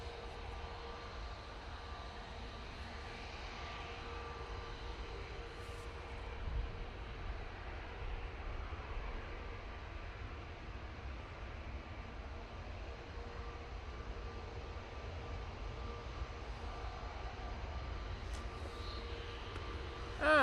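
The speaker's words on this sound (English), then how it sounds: "And we've got our first heavy departure. Is this TUI Dreamliner." A TUI Dreamliner, a heavy jet, departing Manchester Airport for Paphos, heard as a steady, moderately distant rumble that holds level throughout.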